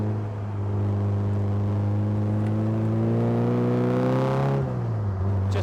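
A newly built kit car rounds a roundabout, its engine a smooth, steady drone that rises slowly in pitch and then eases off near the end, close and continuous with no other noises.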